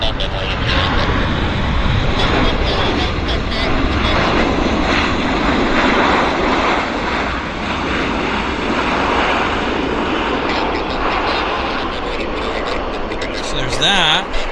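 A heavy jet airliner takes off from Vancouver airport with a loud, continuous engine roar that holds strong for the whole stretch and swells again near the end.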